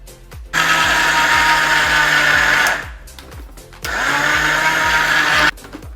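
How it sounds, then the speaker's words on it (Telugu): A mixer grinder grinds peanuts and seeds in two loud, close bursts of high-pitched motor whine with a brief stop between them. The jar rattles over a low rhythmic thumping. "అన్నీ మిక్సీ పట్టుకోవాలండి."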